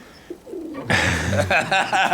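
Pigeons in Mykolaiv in January cooing close by, a steady soft warbling that starts after a brief quiet moment, with faint background voices.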